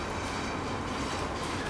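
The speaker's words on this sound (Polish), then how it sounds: "Krótki ten pociąg, nie?" Short TLK Wrocławianin passenger train hauled by an EP07 electric locomotive arriving at Wrocław Nadodrze station, a steady distant rumble and wheel noise on the rails, with no talking.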